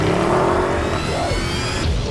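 An Audi RS7 Sportback Performance launches hard from a standstill, its engine note rising steadily and loud throughout, with faint tyre noise and no talking.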